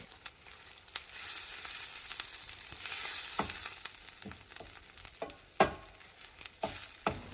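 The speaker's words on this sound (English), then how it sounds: "I'm going to add some diced onion into the mix and continue cooking and sauteing the onion" Chorizo and diced onion sauté in a pan with a soft, steady sizzle, broken by occasional sharp scrapes and clacks of stirring.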